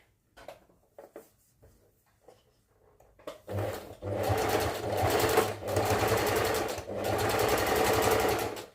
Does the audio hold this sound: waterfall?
no